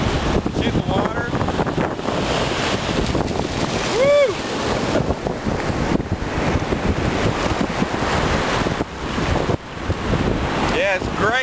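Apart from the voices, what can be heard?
wind and surf waves on Gulf of Mexico beach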